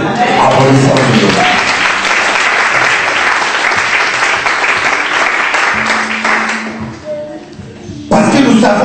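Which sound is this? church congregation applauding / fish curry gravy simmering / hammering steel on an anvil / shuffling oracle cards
church congregation applauding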